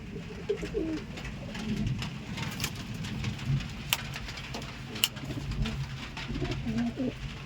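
Soft, low cooing of pigeons repeating at intervals close by, over a steady patter of rain with occasional drips.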